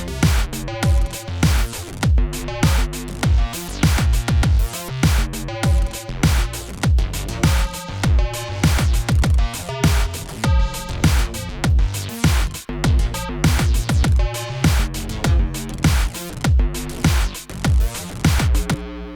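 Synth patches in Ableton run through a gate and OTT compression, giving loud chopped, pumping stabs in a fast regular rhythm with squashed, even levels throughout.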